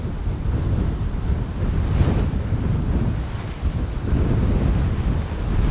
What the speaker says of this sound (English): It's absolutely stormy here.